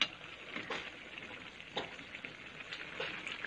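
Shrimp fry in a pan for a breakfast dish, a steady close sizzle with a few louder crackling bursts and soft stirring scrapes, with no talking over it.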